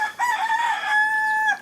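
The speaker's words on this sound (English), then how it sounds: "there's the rooster welcoming us." A rooster crows once at a hilltop fort in the Caribbean, a loud, close, drawn-out call with a rising start and sustained middle, heard alone.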